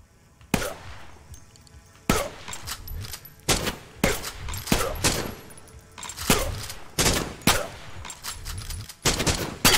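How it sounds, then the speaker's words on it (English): A pistol fires a run of sharp, loud shots at irregular intervals in the STRIDE VR video game, each crack standing alone against a quiet background. "Take a pistol and shoot 7 times."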